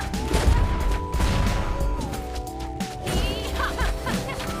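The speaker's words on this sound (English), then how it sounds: "Your team destroyed a turret." A turret destroyed in the mobile game Mobile Legends, loud crashing and blasting game effects with layered gunfire-like hits throughout, dense and continuous, alongside the game's background music and effects.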